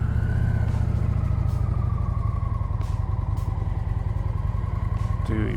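A 750 lb motorcycle rumbles steadily at low speed during a riding skills test, its engine close and continuous with only slight throttle changes and no speech.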